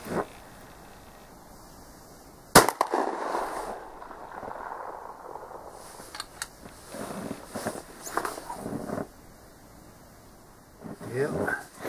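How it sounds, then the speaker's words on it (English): A single loud shot from an Optima 12 gauge shotgun fired at 50 meters on an outdoor range cracks sharply, then a brief echo and rustling noise follow, with quiet movement afterward. "I'll just do another shot just to see where we're at 50 meters."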